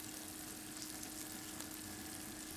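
Short ribs browning in a braising pot give a steady, dense sizzle of frying, even and unbroken throughout, fairly close and with no talking.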